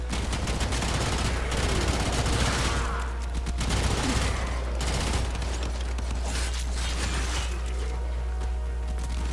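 Twin Kohm guns in the video game Warframe fire rapidly in dense, sustained automatic bursts, loud and close, with brief gaps between volleys.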